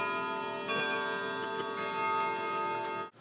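A clock strikes nine o'clock, its sustained bell-like chime tones ringing steadily and overlapping at close range before cutting off abruptly.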